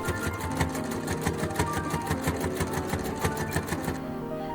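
A sewing machine stitches fabric for a hood, a fast steady mechanical rattle with even needle pulses running close and loud before stopping near the end.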